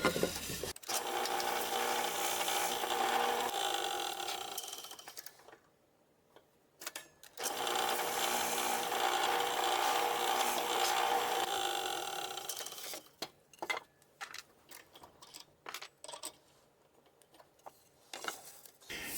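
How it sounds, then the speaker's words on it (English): A drill with a 5/8 inch bit bores a recess into wood for a keyhole hanger, a steady close whirring grind for about five seconds, then again for about five more, followed by scattered handling knocks. "use the 5/8 inch bit to just kind of create a recess so that the keyhole hanger can fit nicely into the back of this"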